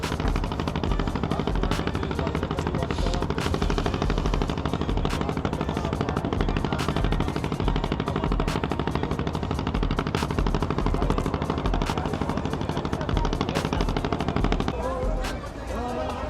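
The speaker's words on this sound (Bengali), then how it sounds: "শুধু লঞ্চ যাচ্ছে, ভটভটির আওয়াজ।" A launch boat's engine chugs in a steady, rapid thumping rhythm, loud and close, continuing unbroken on a quiet early-morning river trip in the Sundarbans.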